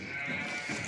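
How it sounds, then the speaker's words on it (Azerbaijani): Female breeding lambs bleating on a farm, a single brief, fairly faint bleat over steady background noise. "Hamısı dişi, damazlıq quzular."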